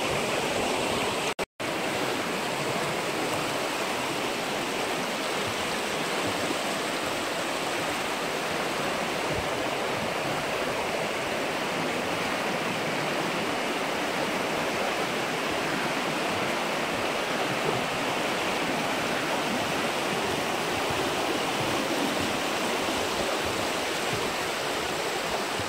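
A mountain stream rushes steadily through the Vargyas gorge, a constant broad roar of flowing water that stays close and even throughout, with no voices.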